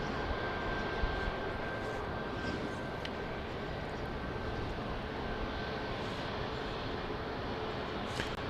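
Boeing 737-700 airliner on flight 4217 to Orlando at Dallas Love Field, its engines giving a steady, broad distant roar that holds evenly throughout with no voices.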